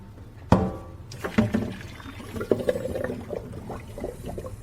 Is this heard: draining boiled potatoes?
yes